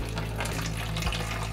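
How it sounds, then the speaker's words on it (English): Distilled water pours into a spray bottle in a steady, hissing stream, close and continuous, with no talking. "Fill the spray bottle almost all the way to the top with distilled water."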